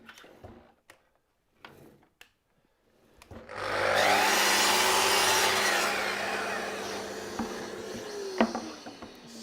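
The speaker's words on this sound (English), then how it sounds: "So we're up onto the saw. So now I'm going to just trim off the edge." A power saw trims the edge of a wooden board for a dovetailed keepsake box, first with a few faint knocks, then a loud sustained whine and rasp of the cut running about six seconds.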